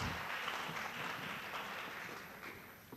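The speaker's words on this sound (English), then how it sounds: "Warm round of applause." Faint, distant audience applause follows a presentation at an international mayors' forum session, a soft even patter of clapping that tapers slightly toward the end.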